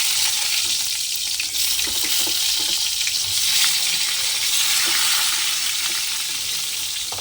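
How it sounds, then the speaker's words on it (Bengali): Steady, dense sizzling of eggplant frying in hot oil, continuous and fairly loud, with faint clinks of a utensil now and then. "এবার বেগুনগুলো আগে ভাজতে দিয়ে দিই"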